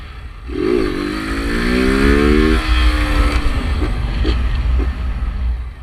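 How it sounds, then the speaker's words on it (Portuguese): A car passes close by on a street, its engine note rising and then sliding down as it goes past, set against steady background noise, with no talking. "Esperar esse carro passar, né?"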